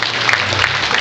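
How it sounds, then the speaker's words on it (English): Applause during a brass band concert evening, a brief dense burst of clapping filling the room at fairly high level, with a low steady hum beneath. "Let's give him a round of applause."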